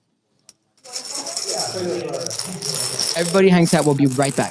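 Pre-1964 US junk silver coins pouring and rattling into a glass vodka bottle, a steady metallic clinking cascade under a man's speech.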